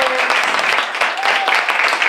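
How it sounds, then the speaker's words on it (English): Dense, sustained applause from an audience cheering the artists, choreographers and poets at a Moving Verse 2022 talk-back event, loud and unbroken throughout. "Let's get another round of applause for these wonderful artists, choreographers, poets,"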